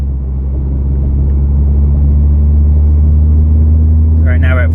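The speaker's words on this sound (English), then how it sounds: "Here's some acceleration." A car fitted with a Ralliart Ultimate Racing exhaust accelerates below 3,000 RPM, heard from inside the cabin as a steady low engine drone and rumble with a rising tone. No one speaks.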